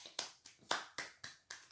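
Hands clap in a steady, quick rhythm of about six sharp, close claps, each decaying briefly before the next, with no talk.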